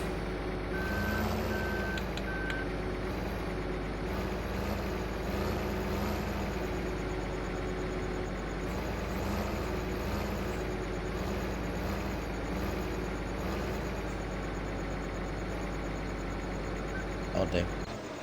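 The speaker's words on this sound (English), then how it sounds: "That's a slow tractor, you know that one." A slow farm tractor pulling a trailer drives and reverses, its engine droning steadily while repeated reversing beeps sound near and loud, ending with a brief hiss like an air brake.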